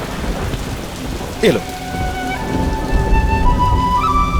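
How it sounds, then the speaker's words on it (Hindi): Steady rain pours down through a thunderstorm while a crack of thunder rumbles in close and loud, with tonal music lines running over the downpour and a brief spoken phrase. "अब बारिश आ गई"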